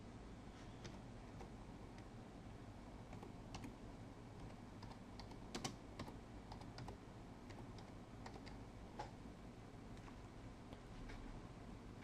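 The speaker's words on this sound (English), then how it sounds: "Type Central Park in point A." Typing on a computer keyboard, a quick string of faint, close key clicks in an irregular rhythm over a low steady room hum.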